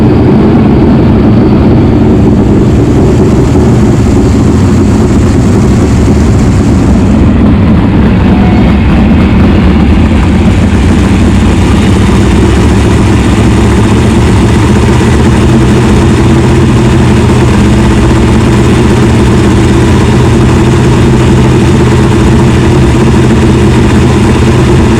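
A loud, powerful sprint car racing engine rumbles continuously at close range at a speedway, with a steady low roar and gritty mechanical texture throughout.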